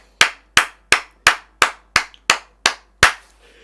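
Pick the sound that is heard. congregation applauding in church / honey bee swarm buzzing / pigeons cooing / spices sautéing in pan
congregation applauding in church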